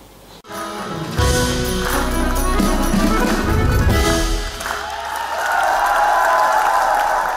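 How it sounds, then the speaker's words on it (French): Concert audience at a show signed in French Sign Language for deaf attendees, breaking into sustained loud applause that swells after a sharp start and continues as a dense wash of clapping. "Les uns applaudissent en frappant dans leurs mains, les autres en les agitant au-dessus de leur tête."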